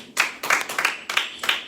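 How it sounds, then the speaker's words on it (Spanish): Congregation clapping together at a church service in rhythmic bursts, several loud waves of applause close by with short gaps between them. "Vamos a darle un aplauso al Señor."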